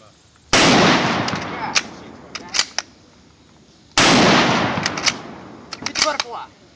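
An M1903 Springfield rifle fires blanks outdoors, two sharp, loud reports a few seconds apart, each ringing out into a decaying echo, with voices nearby.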